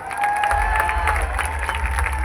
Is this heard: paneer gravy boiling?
no